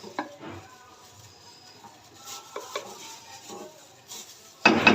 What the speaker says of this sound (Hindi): इसमें ये मसाला ऐड करेंगे और इसके साथ अब भुनाई करेंगे मसाले के साथ।